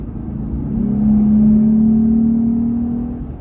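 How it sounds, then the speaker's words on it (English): A Jeep Gladiator engine fitted with an AirRaid cold air intake gives a steady, close, droning hum that swells up as the revs climb, holds there, and then eases back down, with no voices over it. "That is the awesome sound of the air raid cold air intake on my Jeep Gladiator"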